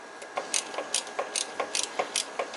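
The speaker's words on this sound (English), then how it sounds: "we're just tightening down the bolt that holds this brake line bracket in place" A hand ratchet clicks in quick, evenly spaced bursts while tightening the bolt on a brake line bracket of a 2013 FRS, crisp and close in a quiet setting.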